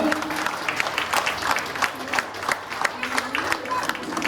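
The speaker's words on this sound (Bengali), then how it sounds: "সবার জন্য একটা জোরে হাততালি হয়ে যাক" Audience applause at a Rabindra-Nazrul evening cultural programme, a crowd's steady clapping with individual sharp claps standing out, close and sustained over a brief stretch.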